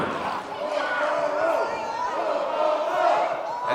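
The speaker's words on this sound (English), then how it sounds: "And now you hear the crowd here in the Bradfield Community Center cheering on Apollo Starr." Crowd cheering steadily at a wrestling show in the Bradfield Community Center, a dense wash of voices holding at one level from start to finish.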